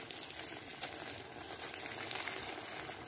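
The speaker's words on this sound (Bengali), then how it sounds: "তেলটা গরম হয়ে গেলে একে একে দিয়ে দেব সুজি মিষ্টিগুলোকে তেলের মধ্যে ছেড়ে দেব" Semolina sweets frying one by one in hot white oil in a kadai, a steady dense sizzle and crackle filling the whole stretch at close range, with no voices over it.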